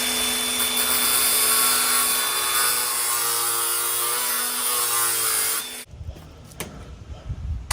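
An angle grinder cuts steadily through the aluminium channel of a Crimsafe security screen door, a loud continuous whine and grind for several seconds before it stops and spins down, leaving faint handling noises.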